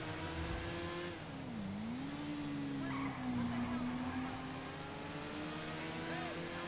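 A motorbike engine in the GTA V FiveM role-play game, a steady droning hum whose pitch dips and recovers as the throttle changes, with a voice talking over it.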